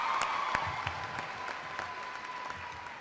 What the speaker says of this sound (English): Let's give ourselves a round of applause because we did it!